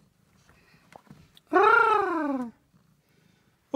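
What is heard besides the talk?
cat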